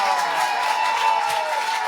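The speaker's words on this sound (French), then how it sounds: "Applaudissez la poétesse, elle est là" An audience at a slam poetry tournament in Nice applauds a poet. Steady, dense clapping and cheering fills the room throughout, with a host's voice speaking over it.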